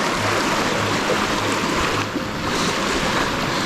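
A river flowing on a frosty morning in Ireland, a steady broadband rush of moving water running continuously and fairly loud throughout, with no voices.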